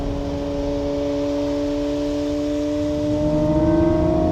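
A Lamborghini Murcielago LP670-4 SV with a naturally aspirated V12 drones with a deep, steady rumble from low revs, then its pitch climbs and swells louder as the throttle is squeezed on.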